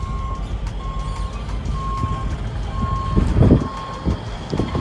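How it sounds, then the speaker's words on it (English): A dump truck pulls up on a construction site with its engine rumbling close by. A regular reversing beep repeats about once a second over the engine noise. "just pulling up in the pickup truck, the dump truck"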